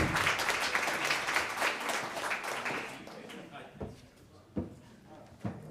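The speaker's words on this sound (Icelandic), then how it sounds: "Ætla bara að biðja ykkur að gefa henni gott klapp." Audience applause at a meeting with election candidates, full and steady for about three seconds before dying away, leaving a few isolated claps or knocks in a quieter room.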